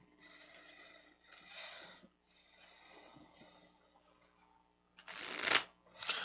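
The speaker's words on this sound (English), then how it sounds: "you mind shuffling those food cards as well?" Playing cards for the Scarf-N-Barf game being shuffled at a table: several soft riffling bursts, with a louder, sharper riffle near the end followed by a brief final flutter.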